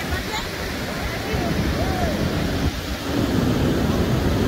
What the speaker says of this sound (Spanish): Ahí viene la ola.